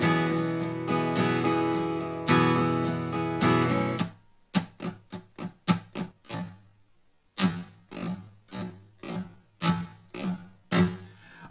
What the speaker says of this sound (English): The strum pattern is actually a pretty nice laid back country strum.